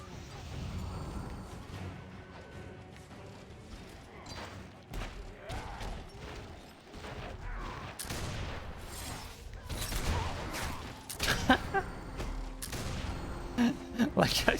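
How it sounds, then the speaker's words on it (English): Cannon fire in the video game Warhammer Online, with repeated booming shots and crashes in a dense, busy battle mix, alongside clashing effects and a voice talking over it. "I think the cannon is literally just aiming at that one guy"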